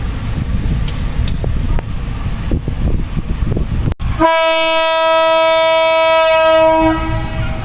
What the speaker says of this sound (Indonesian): Sepertinya lokomotif belakang juga nyala